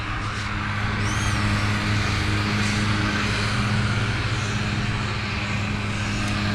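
Geelang Anger 75X whoop drone on a 4S battery flying at full throttle, a steady high-pitched propeller whine with a constant buzzing drone throughout, fairly loud and close, no speech.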